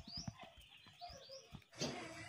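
Swiftlets call near their mud nest under a house, with several short rising chirps and twitters at close range, then a brief burst of wing flutter toward the end.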